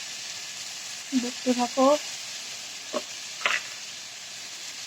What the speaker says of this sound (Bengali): পটল দেয়া হলো, পটল দিয়ে একটু কষবো।